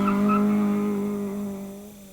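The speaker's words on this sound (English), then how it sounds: "or you can burn the tires" An Acura launches hard and burns its tires, producing a loud, sustained tonal squeal that holds steady and then slowly fades over about two seconds.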